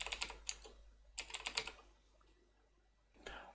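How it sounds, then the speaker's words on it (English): A password being typed on a computer keyboard while setting up a Linux virtual machine: short bursts of quick, light key clicks, close but quiet, separated by a pause of near silence. "simply type your desired password"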